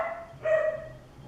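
A female dog gives a short, close bark or yip, heard once over faint background.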